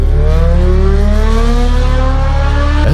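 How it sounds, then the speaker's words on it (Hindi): A motorbike speeds along a road: a loud, steady engine roar with rising revving pitch that holds throughout, with no voices. "एक बाइक तेज रफ्तार के साथ रोड से गुजर रही थी।"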